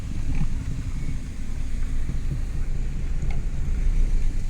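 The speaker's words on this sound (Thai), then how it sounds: "ลมนะ ลม" Wind blows outdoors beside a cattle farm, buffeting the microphone with a constant low rumble that stays loud and continuous throughout.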